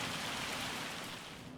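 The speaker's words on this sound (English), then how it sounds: "there's not much else but just to wait for this rain to ease up" Steady rain falls in the Farming Simulator 25 game, a dense, even hiss of rain on surfaces that fades slightly toward the end, with no talk.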